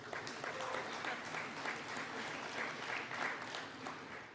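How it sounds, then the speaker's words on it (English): Fairly quiet applause from an audience at a political speech, a steady patter of clapping with faint murmuring voices mixed in, lasting a few seconds. "Although I don't deserve the applause"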